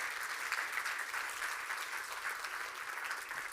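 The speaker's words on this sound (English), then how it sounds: "I want to actually give a big round of applause to the GovTech Lab and obviously Innovation Agency in Lithuania" Audience at a GovTech Leaders conference applauding the GovTech Lab, an even crowd of clapping hands that holds steady throughout, fairly faint and distant.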